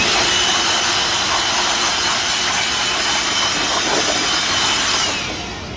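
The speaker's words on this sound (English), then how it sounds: "And then we're over here vacuuming what we can" Vacuum cleaner drawing air while cleaning out an air conditioner evaporator, a loud, steady rushing roar that holds for several seconds and eases slightly at the end, with no talk.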